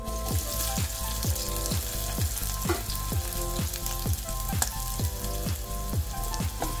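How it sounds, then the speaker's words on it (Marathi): Chopped onion, bay leaves and cinnamon pieces fry in a pan for an egg curry, with a loud, continuous sizzle broken by regular scraping stirs. "आता हे छानपैकी आपण भाजून घ्यायचा कांदा।"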